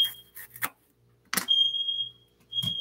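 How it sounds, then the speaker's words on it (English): A kitchen smoke detector sounds off during hamburger cooking, loud high-pitched piercing tones in two sustained bursts broken by a gap, with sharp clattering noises between them. "our smoke detector works"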